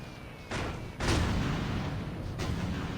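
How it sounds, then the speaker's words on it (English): Aircraft gunfire aimed at Zeppelins in the game Aircraft Evolution, with a few sharp bursts rising from a roaring engine drone and one heavier burst after a second. "See if I can shoot down these Zeppelins."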